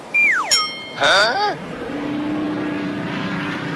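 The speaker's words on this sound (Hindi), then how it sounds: "पापा, मुझे किसी जहाज की आवाज सुनाई दे रही है।" A cartoon aircraft flying overhead, a swooping whistle and a higher descending tone followed by a low steady propeller-engine drone that holds on.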